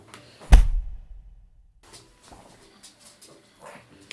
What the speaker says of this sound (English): This dog is so dramatic.